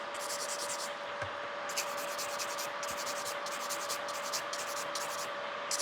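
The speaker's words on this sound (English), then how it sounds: "I want to show you those filing lines so you can see it where I'm filing." A nail file working back and forth over gel nail extensions during a refill, making rapid, steady, rhythmic rasping strokes that are close and continuous over a constant low background hum.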